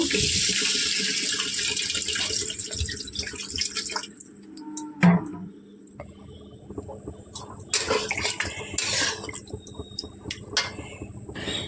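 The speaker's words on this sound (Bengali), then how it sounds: "এবার পরিমাণ মতো জল দিয়ে দেব।" Water runs from a tap in a long steady stream, filling a vessel for spiced potatoes in a rohu fish curry with potato and pointed gourd, with a brief clatter midway and small drips and clinks afterward.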